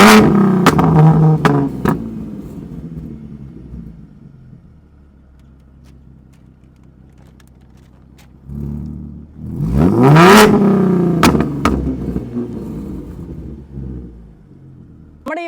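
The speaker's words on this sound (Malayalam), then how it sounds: "നമുക്കൊരു V6 പ്രൊഡ്യൂസ് ചെയ്യുന്ന സൗണ്ട് നിങ്ങൾക്ക് അറിയാമല്ലോ, അതിൻ്റെ വേണമെങ്കിൽ ഒരു എക്സോസ്റ്റ് സൗണ്ട് ഇപ്പോൾ കേൾപ്പിച്ചു തരാം" A Stage 2 tuned Ford Mustang V6 with a Borla straight-pipe full-system exhaust and flame kit revs hard twice, each blip rising to a loud snarl and falling back to a low idle, with sharp crackles between the revs.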